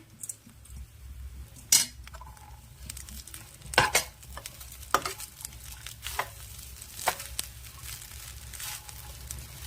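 Onions fried in ghee being stirred into drumstick leaf rice, soft sizzling under repeated metal spoon scrapes and clinks against the pot at close range.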